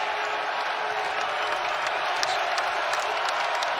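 A basketball crowd cheers and applauds on its feet at a Florida versus South Carolina college game, a dense, sustained roar of clapping and cheering, with an announcer's voice faintly under it.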